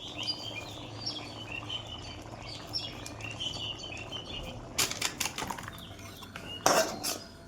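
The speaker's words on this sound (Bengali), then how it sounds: "এবার ডিম ভুজিয়াটা দিয়ে দিলাম, নেড়ে চেড়ে তরকা" Egg bhujia is stirred into a lentil tarka in a pan, heard as a few quick metallic scrapes and clinks late on, faint against a soft background with distant birdsong.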